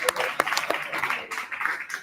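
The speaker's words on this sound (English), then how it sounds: "give a big round of applause" An audience applauds at a business workshop, a dense wash of clapping hands that carries steadily for about two seconds, with a few sharper individual claps standing out.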